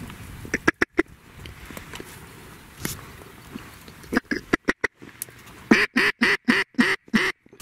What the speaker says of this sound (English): Yeah, Brandon, there's some ducks over here.